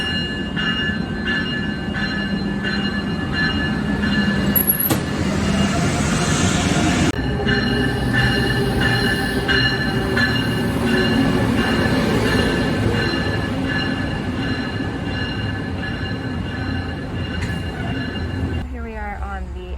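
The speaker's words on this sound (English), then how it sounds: "Here we are on the Amtrak en route to New York Penn Station from Boston Bayback Station." An Amtrak train runs from Boston to New York with a continuous rumble of wheels and carriage, a brief squeal and clatter of track noise. A voice talks over the ride.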